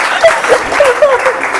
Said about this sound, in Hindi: और आप सभी के लिए जोरदार तालियां।